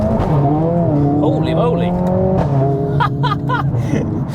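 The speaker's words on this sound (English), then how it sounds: "You find a little bit of wet tarmac and it will slide" A Mercedes A45S AMG slides on wet tarmac, its engine droning loud and steady with brief tyre squeals, while a man exclaims over it.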